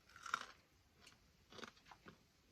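Close, quiet crunchy chewing of overcooked fallow deer meat in a few separate bursts, with brief pauses between bites, outdoors in Tasmania.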